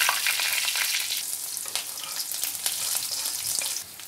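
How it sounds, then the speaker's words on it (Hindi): Cumin, curry leaves, green chilli and onion fry in oil in a kadhai, a steady bright sizzle with scraping stirs, close and alone. "अब एक कढ़ाई लेंगे, उसमें देंगे जीरा और सभी कटे हुए कड़ी पत्ता, हरी मिर्च, प्याज, सारे मसाले डाल देंगे"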